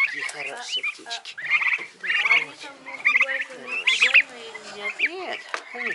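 Young domestic fowl chirp and peep close by in a busy, overlapping chorus, with a voice talking to them among the calls.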